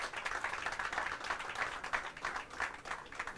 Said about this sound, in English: A nice round of applause for Mr. Tyler